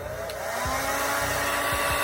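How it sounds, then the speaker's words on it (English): A handheld blow dryer blows on lace front wig glue to dry it, making a steady close-up whir with a constant motor hum and no pauses. "But to speed it up, I'm gonna start using my blow dryer."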